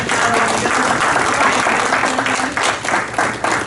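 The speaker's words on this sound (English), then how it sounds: "give the board, the volunteers, and everybody else a big round of applause" Audience applause at a community board meeting, steady dense clapping filling the whole stretch, loud and close with no talk over it.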